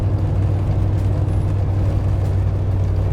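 A 1947 Ford Deluxe Coupe hot rod engine pulls steadily uphill, a loud, continuous low rumble with a deep droning tone close by, no voices over it.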